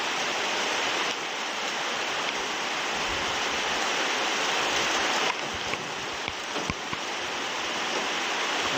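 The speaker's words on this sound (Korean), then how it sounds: "비가 많이 온다잉." Heavy rain pouring steadily at a lookout tower in Manaus, Brazil, a dense constant hiss with a few sharper drips and taps close by and no voices.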